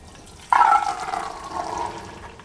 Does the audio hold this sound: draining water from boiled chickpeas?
yes